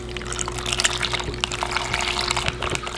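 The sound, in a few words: pouring chicken broth into gumbo pot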